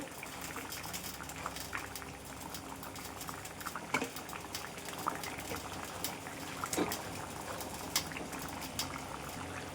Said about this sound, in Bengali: দশ মিনিটের মতো ফুটিয়ে তরকারিটা নামিয়ে দেবো।